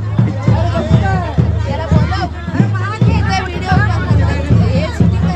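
A busy crowd mills and chatters at a village Shimga festival market in Kalambaste, Konkan, packed around a utensil shop. Dense overlapping voices keep up a steady, close hubbub throughout.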